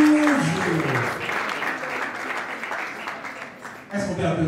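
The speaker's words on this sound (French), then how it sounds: "Est-ce qu'on peut applaudir Linda?" An award ceremony audience applauds for Linda, a dense wash of clapping that swells and fades over several seconds, with a host's voice heard briefly over the start and end.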